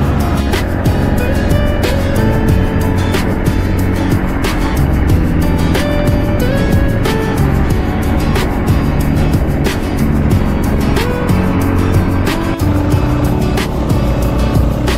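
Motorcycle engine droning steadily on a ride toward Barangay Dumalangit, Impasugong, Bukidnon, nearing a rough road, with constant loud road and wind noise and shifting engine tones throughout.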